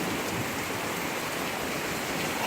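Heavy rain pours down during a sudden thunderstorm, a dense, steady roar of drops hammering surfaces nearby, loud and unbroken with no voices.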